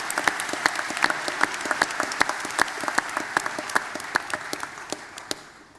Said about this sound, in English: Round of applause for Hugh Jackson.